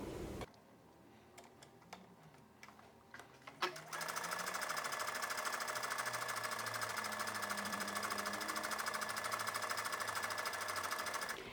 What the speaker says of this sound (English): the first step for this shirt would be to sew a gathering stitch 1/8 of an inch down from one of the long edges of each ruffle